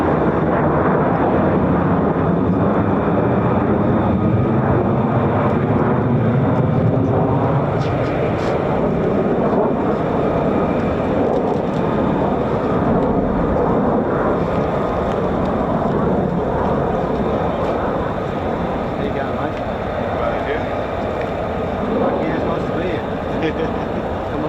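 US Air Force F-15 and F-35 fighter jets of the 48th Fighter Wing at RAF Lakenheath: a loud, continuous broadband jet roar that swells and lingers, buffeted by wind noise on the microphone, with people talking nearby.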